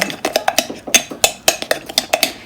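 A spoon stirs mug cake batter in a mug, knocking against the sides in quick, fairly regular clinks, close and clear with no talking.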